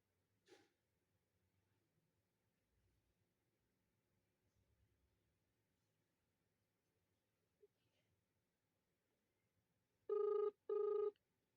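An outgoing phone call ringing while waiting for an answer: after near silence with faint room noise, two short electronic ringback tones sound close together at the end.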